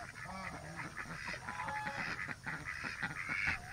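A Pekin duck on a farm gives repeated raspy, nasal honking quacks in a steady run, faint and somewhat distant, with a little background noise.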